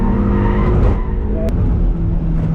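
A tuned diesel car drifts on a race track, its engine roaring loud and close with a rough edge of tyre scrub, and no voices.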